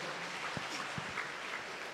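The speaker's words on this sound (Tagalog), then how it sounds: "Isa pang malakas na palakpak para sa atin pong buhay na Diyos." Worshippers at a Filipino church service break into applause, a dense wash of clapping with a few heavier thumps, brief and fairly distant.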